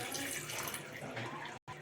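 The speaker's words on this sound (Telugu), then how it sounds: "చూడండి, కొన్ని వాటర్ వేస్తున్నాం." Water poured into a pan of raw snails while making a snail curry, a close, steady splashing rush that lasts under two seconds with a brief cut near the end.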